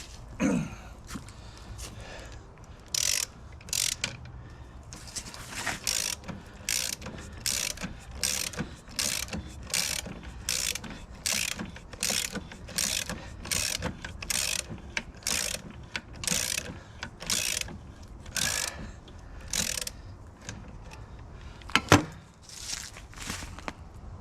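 A puller is worked to pull the hanger bearing off a 7.3 diesel driveshaft. Repeated bursts of close, sharp ratcheting clicks come in a steady rhythm with short pauses between them.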